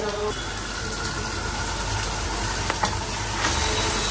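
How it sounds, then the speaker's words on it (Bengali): An egg frying in a pan gives a steady, close sizzle with a faint watery crackle and a couple of small clinks near the end, with no one talking. "এখানে ডিমটা ভাজি করতেছি"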